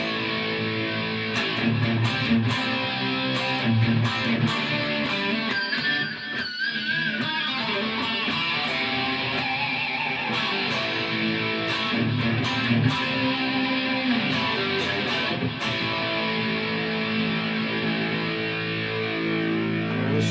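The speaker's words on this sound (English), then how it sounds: "put some distortion on and see if we can make this thing do here" A heavily distorted Firefly FFMN electric guitar plays continuously, thick and buzzing with sustained chords and notes, loud and steady throughout.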